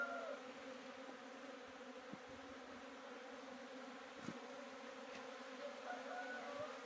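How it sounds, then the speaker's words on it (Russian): Honeybees buzzing at a water feeder at midday in early spring, a faint continuous drone with a few louder passes as bees fly close to the microphone, no speech. "И вот пчела берет воду. Активно берет."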